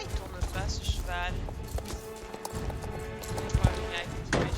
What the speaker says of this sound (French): Ah, pourquoi il tourne pas ce cheval?